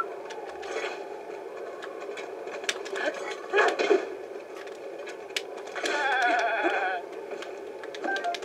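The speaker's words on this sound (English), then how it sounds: "Ooh, look, a goat." Goat in the video game Breath of the Wild near a stable, with short bleats breaking through amid clicks and other game sounds, one bleat standing out late in the span.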